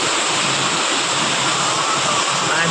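Heavy rain pours down in a dense, unbroken roar, loud and constant throughout with no pauses.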